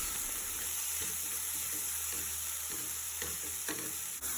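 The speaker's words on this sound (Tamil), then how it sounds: "இந்த நெய்யில் இருக்கிறதுக்குள்ளே நாங்கள் துருவின அந்த வத்தாளங்கிழங்கு எல்லாமே போட்டு கொஞ்சம் அப்படியே நாங்கள் வதக்கணும்" Grated sweet potato sautés in ghee for a sweet potato payasam, giving a steady bright sizzle with soft stirring scrapes, close and continuous, no talk.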